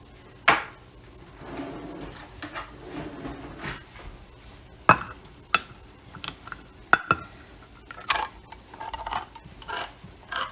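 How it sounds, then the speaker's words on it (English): Sharp metallic clinks and clatters, scattered irregularly, with scraping between them as a can is worked open nearby. "And then I gotta pop open this can of tomatoes."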